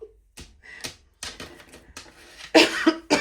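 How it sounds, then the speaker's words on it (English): A person coughs a few times in short, sharp bursts, close and fairly loud, with quiet gaps and small clicks between them. "Okay, excuse my cough."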